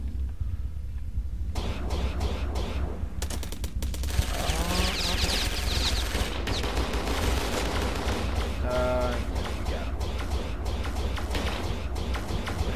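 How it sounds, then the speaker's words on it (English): Missiles launching in space combat in the game Starsector, a dense stretch of rapid popping launches and bursts over a constant low rumble, with rising whooshes and sweeping tones, loud and continuous throughout. "I'm going to go ahead and just throw some missiles at him right when he comes into range."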